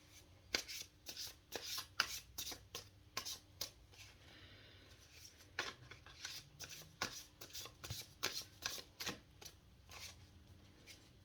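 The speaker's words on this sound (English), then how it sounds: "if I keep shuffling too much, I just do a different way" Tarot or oracle cards being shuffled by hand, close and soft, in repeated quick riffling bursts separated by short pauses, with no voice over them.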